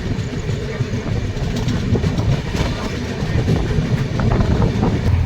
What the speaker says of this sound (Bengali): কাটোয়া থেকে ট্রেন ছেড়ে দিয়েছে